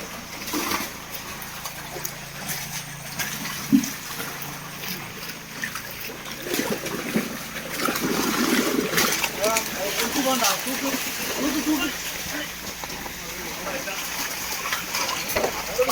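Water drains out of a shallow fish pond in a continuous rushing trickle and splashing, with occasional louder splashes, while people talk over it nearby.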